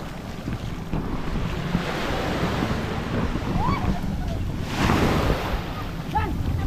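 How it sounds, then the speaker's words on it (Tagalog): Large ocean waves roar and wash continuously at a beach, with wind buffeting the microphone and a surge building near the end. "Ang lalaki ng alon."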